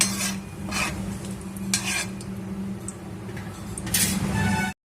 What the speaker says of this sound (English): Once after frying my whole spices for a couple of minutes